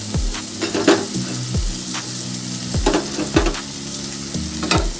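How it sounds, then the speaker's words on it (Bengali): Grated ginger and garlic fry with onion paste in a pan for a soybean and potato curry. A loud, close sizzle runs throughout, punctuated by repeated rhythmic spatula scrapes against the pan. "আদা রসুনটাকেও ভালো করে কষিয়ে নেব যতক্ষণ না আদা রসুনের কাঁচা গন্ধটা চলে যাচ্ছে"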